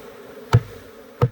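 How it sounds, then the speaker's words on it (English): Bees buzz near a shed floor during a removal, a low continuous hum with two sharp knocks, close and fairly quiet, with no talk. "Now we'll do it with the bees. They're all kind of flying back into the everything vacuum bottom"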